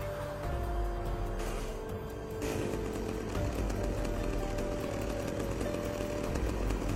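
A chainsaw in a video game drones steadily throughout, loud and continuous with a revving buzz, over rumbling background noise.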